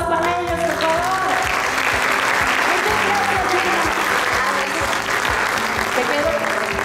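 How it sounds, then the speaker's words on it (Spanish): Steady, loud applause from an audience at a channel awards show fills the whole stretch, dense clapping layered over a low musical bed. "¡Aplausos para ellos, por favor!"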